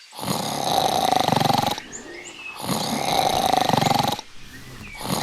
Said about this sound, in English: This is the snoring hippo that won't let me sleep.